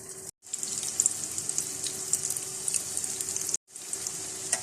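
Bottle gourd kebabs fry in hot oil, a steady close hiss of sizzling with crackling spits, broken by two brief silent gaps.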